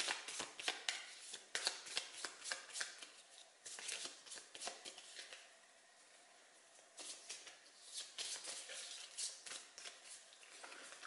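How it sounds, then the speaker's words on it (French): A deck of Firefly: Legendary Encounters game cards is shuffled over and over, giving rapid riffling flutters and soft card slaps that come in bursts and pause once before resuming, close and fairly quiet, with no voices. "Donc je remélange le deck."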